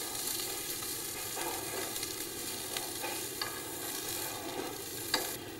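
Red mullet fillets frying in a pan as they are turned, a steady faint sizzle with scattered light clicks and taps of a utensil, close but quiet and continuous, nobody speaking.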